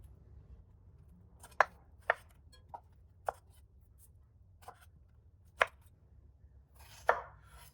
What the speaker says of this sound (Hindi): ये मैंने स्ट्रॉबेरी की कटिंग कर दी।